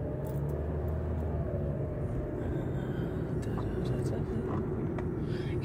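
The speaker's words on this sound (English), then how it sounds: "There's a lot of traffic, a lot of buses and what have you" Dense city street traffic with passing buses in downtown Los Angeles near Angel's Flight, a steady low rumble of engines that continues without break throughout.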